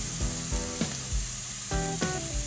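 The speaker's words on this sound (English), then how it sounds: "I saute it for 2 to 3 minutes so that the rawness of the ginger and green chili just" Ginger and green chillies sauté in hot oil as a loud, dense sizzle, with a few rhythmic spatula knocks against the pan close up and no voices.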